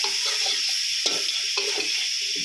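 Yellow soba noodles stir-fry with marinated pork and softened vegetables in a pan, giving a steady sizzle broken by a few scraping stirs of the spatula.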